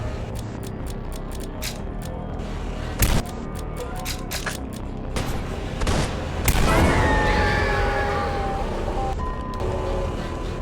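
Rapid gunfire in The Lacerator video game, blasting at the armored boss's yellow weak spot. Dense, continuous shooting runs throughout, with a heavier boom near three seconds and a louder, sustained burst of fire from about six and a half seconds onward.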